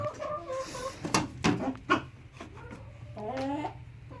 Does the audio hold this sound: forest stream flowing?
no